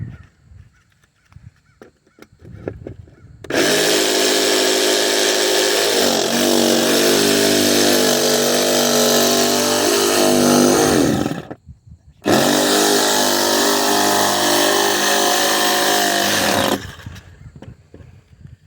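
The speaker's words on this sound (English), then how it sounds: "That's definitely enough room to get my jigsaw in." Ryobi jigsaw cutting close up, a loud, steady buzzing whine that runs for about eight seconds, stops briefly, then starts again for about five more seconds before shutting off. Nobody speaks.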